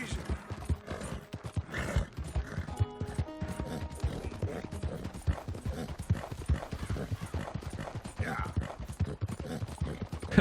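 A horse in Red Dead Redemption 2 gallops in a quick, steady clip-clop of hooves, close and rhythmic throughout, with a brief neigh partway through.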